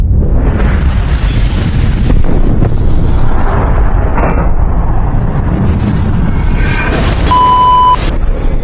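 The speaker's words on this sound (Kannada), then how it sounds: "ಪಟಾಕಿದಾವೆ." Firecrackers bursting during a Holi festival celebration, a dense run of loud booming explosions and pops with no pause, ending in a brief high electronic tone.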